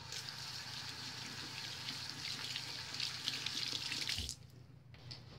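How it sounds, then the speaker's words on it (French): Running water from a tap pours steadily while hands and nails are rinsed under it, faint and continuous, then the flow stops abruptly near the end, leaving quiet. "Je gratte bien et je rince."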